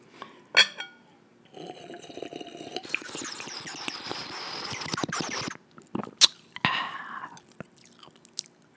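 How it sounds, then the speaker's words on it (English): Kombucha fizzes with a soft, hissing effervescence for a few seconds, set between close-up chewing, clinking glass and brief liquid handling at a vegan mukbang meal. "Do you hear that sizzle from the kombucha?"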